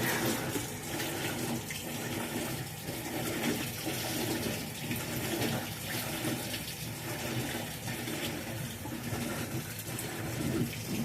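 Steady rushing of water pouring into a faulty Whirlpool washing machine, a continuous broadband wash with faint churning, constant in level throughout with no voices.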